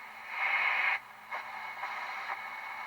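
Hiss and digital noise come from the shortwave band of a Sears Silvertone 4669 radio, a faint steady static with a louder swell at first, then softer hiss broken by a few brief pulses.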